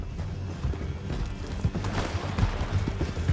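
Horse hooves clop rhythmically in Red Dead Redemption 2 as riders make an escape, a quick uneven beat close by, mixed with other game sounds.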